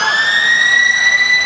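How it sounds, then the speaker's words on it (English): Halftime siren at a rugby union match between the Pacific Islanders and South Africa at Gosforth, a loud, sustained electronic wail holding one steady pitch with bright overtones, heard alone. "Halftime siren sounds,"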